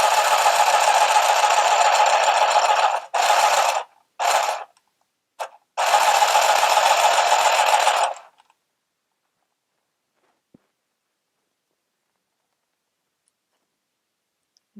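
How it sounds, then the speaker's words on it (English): A mini portable handheld sewing machine running, a rapid mechanical ticking stitch that starts and stops in several bursts over about eight seconds, close and loud, then silence. "Now you can also use the handheld sewing machine holding it vertically to your body"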